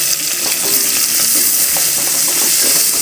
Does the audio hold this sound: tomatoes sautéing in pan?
yes